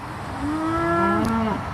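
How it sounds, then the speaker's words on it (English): A cow moos in a field near a farm, one loud, close, drawn-out low call lasting over a second, standing alone without voices. "fields filled with cows"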